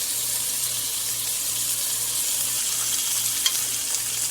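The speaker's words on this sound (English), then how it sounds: "Put some garlic on." Garlic sizzles and fries steadily in a hot pan alongside rosemary lamb steaks, a continuous close crackle with a faint low rhythmic hum beneath and one small clink near the end.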